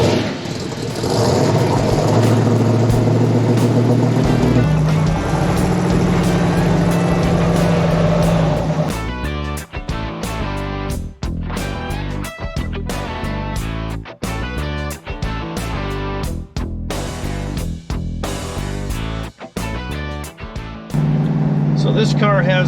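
Ford Mustang with a 351 Cleveland Q-code four-barrel V8, first idling with a steady rumble under nearby talk, then revving and pulling away in loud, repeated surges with gear changes before settling back to idle.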